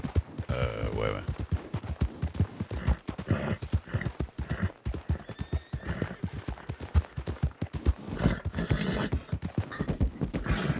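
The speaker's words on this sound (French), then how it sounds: "Quoi le gros machin là-bas, c'est un cheval?" A horse walks on hard ground, its hooves clip-clopping in a steady, even rhythm, close and clear, running throughout with a faint background murmur.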